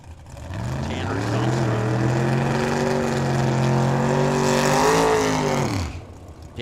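A junior dragster and a 1967 Nova launching at a drag strip, a loud sustained engine roar rising then holding steady before cutting off abruptly near the end.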